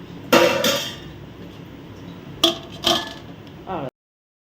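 Metal lid set onto a pot of stirred vegetables, rice and dal, a sharp clattering clink, then two lighter knocks and a faint scrape before sudden silence.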